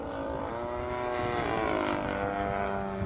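A competition UAV, a propeller-driven fixed-wing aircraft, circles before landing, giving a steady, continuous engine drone with a slowly shifting pitch, moderately distant and unbroken by talk.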